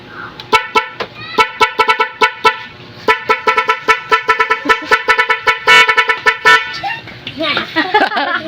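Nhay 3 Pro horn fitted to a Honda XRM 125 motorcycle blasting a rapid series of short, loud, tonal pop-pop toots in quick bursts, with a brief pause midway and voices and laughter at the end.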